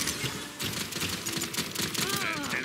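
Rapid gunfire crackles through a busy Paladins payload match, shots rattling in dense bursts over layered game effects and music, with a character's voice line joining near the end.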